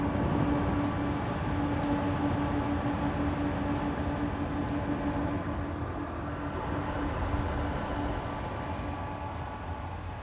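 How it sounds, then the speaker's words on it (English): A Goldshell Doge II crypto miner running at full load, giving a steady whirring fan noise with a faint constant hum, continuous and fairly quiet with no other sounds. "here is the sound of this miner at full tilt"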